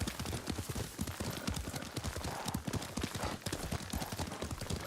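Horse hooves clatter in Ghost of Tsushima as a rider gallops, a fast continuous clip-clop over a busy, steady game soundscape, fairly quiet overall.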